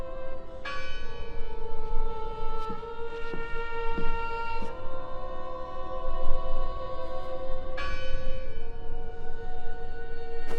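A bell tolls several times in the video game Draugen, each strike ringing out with a long, bright decay over a steady low ambient bed, with no talking.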